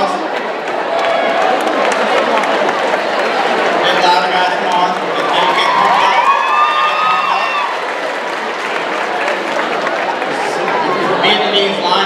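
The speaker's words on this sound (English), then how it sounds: "Give them a round of applause." Audience at a high school show bursts into sustained applause with cheers and crowd chatter right after a Vietnamese lion dance, loud and dense throughout.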